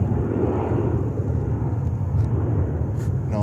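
A JetBlue A320 jet at JFK airport rumbles with a loud, steady broadband engine roar, close and unbroken, with no talk over it.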